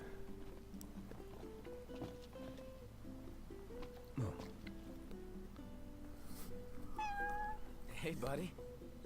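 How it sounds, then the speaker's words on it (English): A small kitten meows a few times in the video game Final Fantasy XV, short high mewls rising over soft background music and ambience, fairly quiet and close. "I find a little kitten."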